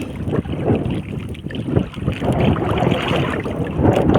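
Strong wind buffets a small boat out on the water, a steady roaring rush with gusty swells and rumbling microphone buffeting throughout, no voices over it.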